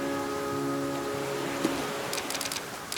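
Steady rain falling in the video game The Flame in the Flood, a continuous soft hiss with scattered droplet patter, heard alongside a low sustained musical tone and a few brief clicks near the end.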